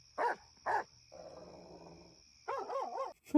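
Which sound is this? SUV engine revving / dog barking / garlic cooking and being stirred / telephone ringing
dog barking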